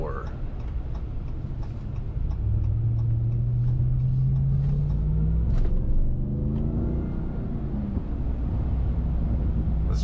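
A truck's supercharged 6.2-litre engine rumbles steadily from inside the cab while a rising whine climbs in pitch as it accelerates, loud and continuous under wind noise.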